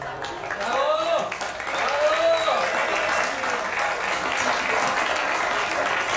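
Applause from a crowd at a regional speed racing championship trophy presentation, steady clapping throughout, with brief whistles or squeals near the start.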